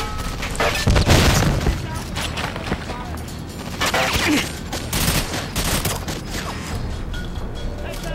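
Grenade explosions in GoldenEye 007 on the Wii, a string of heavy booms and crashing blasts spread over several seconds, loud and close, mixed with game gunfire clutter.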